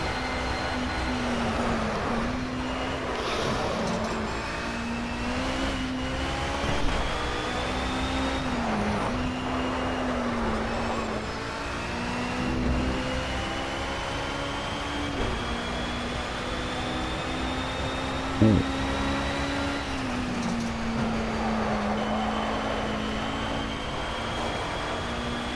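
BMW M3 GT3 racing engine at Brands Hatch in Project CARS, a continuous loud exhaust drone rising and falling through gear changes, with brief sharp clicks of shifts along the way.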